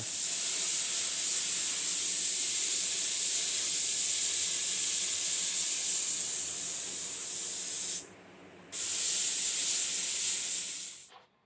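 Clear sealer is sprayed onto a guitar neck in a long, steady, close hiss, broken by one short pause before the spray resumes and then cuts off.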